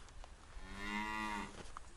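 A single cow moos once along a dirt road near Mount Shasta, a drawn-out tonal low that rises and fades over about a second, clear and fairly close above a faint outdoor background, with no one speaking.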